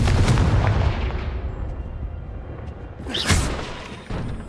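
Confringo blasting curse explosions in the video game Hogwarts Legacy: a loud booming blast at the start, then rumbling, and a second sharp burst near the end.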